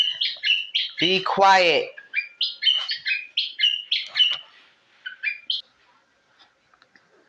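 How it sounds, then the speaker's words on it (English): Repeated bird chirps and tweets in short rapid bursts, fairly close and clear, with a person briefly speaking over them before the calls thin out and fade near the end. "And listen at the bird."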